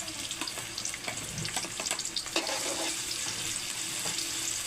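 Onions fry in a pan for bopis, a steady close hiss of sizzling oil with scattered crackles and a few stirring scrapes, growing slightly louder partway through; no one speaks.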